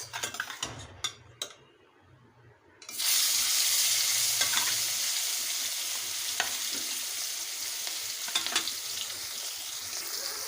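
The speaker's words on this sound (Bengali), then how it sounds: "দিয়ে দেব একে একে মাছ" Rohu fish pieces dropped one by one into hot oil in a wok, a few clinks before a sudden loud sizzle that stays dense and steady, dotted with spatter pops and utensil taps.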